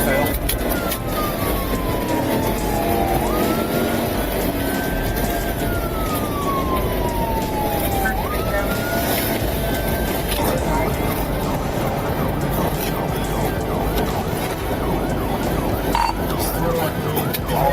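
Police car siren on a road, heard in dashcam footage: a wailing tone sweeping up and down over steady traffic and engine noise, moderately loud and continuous throughout.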